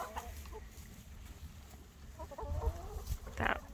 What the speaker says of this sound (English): Here's one of our roosters.